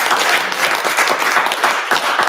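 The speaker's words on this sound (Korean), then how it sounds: "박수." Brief burst of lively clapping from a room of about seventy people at a gathering during CES, dense and close, filling the whole moment without speech.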